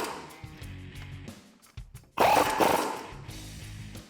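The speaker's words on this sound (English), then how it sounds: "Then I'm going to grab the 18mm socket and tighten these down." An 18mm socket on a ratchet tightens bolts on the front suspension knuckle of a 2004-2008 Ford F150 during a leveling lift install, giving close, loud bursts of metallic clicking and grinding with short pauses between them.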